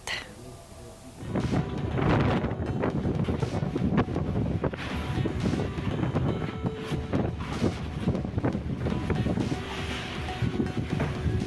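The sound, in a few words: strong wind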